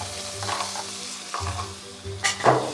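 Scallops and clams sizzling and frying in oil in a pasta pan, a steady close crackle with stirring scrapes and a few louder spits toward the end, no voices.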